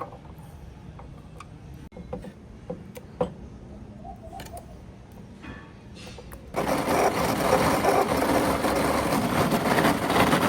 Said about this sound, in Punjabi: ਅਸੀਂ ਇਹਨੂੰ ਹੁਣ ਗ੍ਰਾਈਂਡ ਕਰਾਂਗੇ ਜੀ।